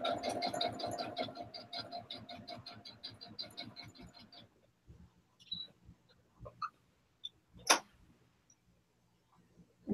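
A sewing machine stitching along a half-inch seam allowance line runs as a close, rapid, even mechanical clatter for about four seconds, then stops, leaving a few soft handling taps and rustles.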